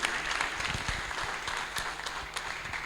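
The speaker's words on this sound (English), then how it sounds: "And another big round of applause to Krishangi Radhe Mataji." Steady applause from a gathered audience at a Sunday love feast program, a continuous dense clapping texture with a few sharper nearby claps, and no voices above it.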